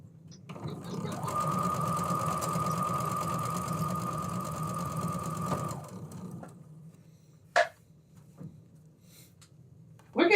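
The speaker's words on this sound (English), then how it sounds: "So I've sewn up the A, and now I need to sew up my B." A sewing machine stitches fabric pieces together in a steady, buzzing run of about five seconds, then stops. A few faint clicks and handling taps follow in the quiet.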